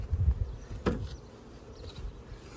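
A honeybee swarm settled in a hive gives off a steady low buzzing hum throughout, with one brief knock partway through.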